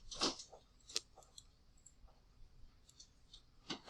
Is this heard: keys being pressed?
yes